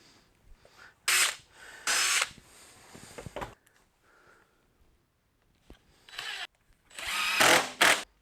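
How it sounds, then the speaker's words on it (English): A drill press runs in several loud bursts as a hole saw bites into a workpiece held in a jig, separated by quieter gaps and softer mechanical clatter. "I'm going to use a hole saw and use the drill press"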